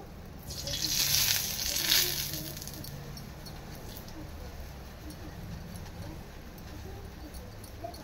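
Oil sizzles on a ragi flour chapati frying in a pan, a steady soft crackling hiss that swells briefly louder near the start, then settles into a constant quiet fizz.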